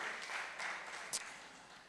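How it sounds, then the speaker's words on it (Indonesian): An audience at a national prayer gathering gives a short, faint burst of applause for a women's prayer group, soft steady clapping heard from a distance. "Ya, tepuk tangan untuk JDW."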